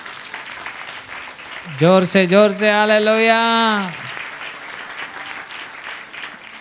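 A church congregation claps steadily throughout, with a loud, drawn-out shouted call from a preacher rising over the clapping midway.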